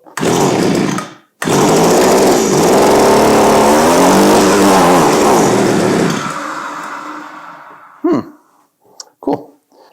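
An Echo string trimmer's small two-stroke engine roars close by with the throttle pulled, rising and dipping in pitch, then dies away, followed by a few short sputtering attempts.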